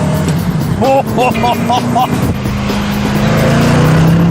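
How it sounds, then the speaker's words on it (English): A 4-litre Rover V8 in a British sports car built in the Malvern Hills drones loudly and steadily, close up and continuous, with its pitch rising toward the end as it accelerates. "that engine, 4-litre, well-proven, Rover V8"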